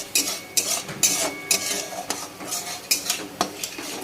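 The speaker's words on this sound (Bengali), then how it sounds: "দেখো তেল ছাড়া কিভাবে চিকেন রান্না হচ্ছে," Chicken cooking in a pan without oil, with repeated sharp clinks and scrapes of a utensil against the pan at an irregular rhythm over a faint sizzle, close and fairly loud, no talk.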